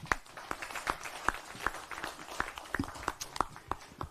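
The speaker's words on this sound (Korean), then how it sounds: "환영의 박수를 부탁드립니다" Sparse, scattered handclaps at a Korean party floor leaders' meeting welcoming a newly appointed policy committee chair, a modest run of individual claps at moderate distance in a meeting room.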